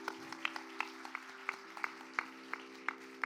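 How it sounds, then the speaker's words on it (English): Sparse, quiet clapping at a Bharatanatyam arangetram dance recital, a handful of distinct claps in an uneven rhythm heard faintly over a steady background hum. "She deserves another round of applause"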